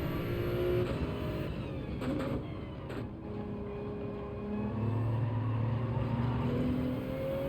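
Race cars in Gran Turismo 7 drone continuously at close range, their engines holding steady tones that shift in pitch as cars rev and jostle for position, with no voices over the sound.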